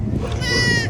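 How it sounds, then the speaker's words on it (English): A single goat bleats, rising and wavering for about half a second over a low background rumble. "Traveling goats."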